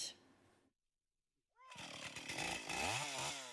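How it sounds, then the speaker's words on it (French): A loud chainsaw roars and revs up after a brief silence, its pitch rising and falling as it cuts Christmas trees close by in a fir field in Moselle, France; a short voice is heard beforehand. "Un bruit de tronçonneuse résonne dans ce champ de sapins"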